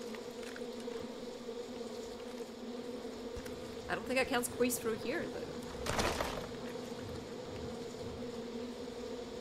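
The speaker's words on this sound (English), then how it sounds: "Oh god, more bees." Bees buzzing around a player character in the video game Far Cry 5, a steady insect drone running through the whole stretch, with someone talking over it and a brief louder burst midway.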